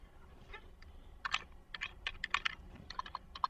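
Typing on a computer keyboard: bursts of close, crisp key clicks in an uneven rhythm, with a few short pauses between words, over a quiet background and no voices.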